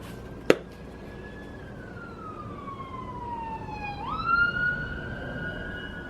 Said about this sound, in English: The ambulance going by.